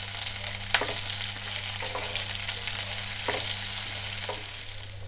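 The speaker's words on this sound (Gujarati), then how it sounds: "કાંદાને થોડી વાર ચડવા દઈશું।" Medium-size chopped onions fry in a pan for lemon rice, a steady close sizzle running throughout with a few sharp stirring clicks and scrapes.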